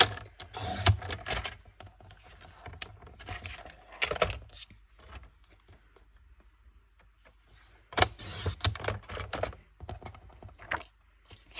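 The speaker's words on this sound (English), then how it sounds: "I might just cut half a centimeter off both of these sides" Card stock being trimmed to size for a handmade butterfly greeting card, close crisp cutting and handling noises in two busy bursts separated by a quiet gap, no voices.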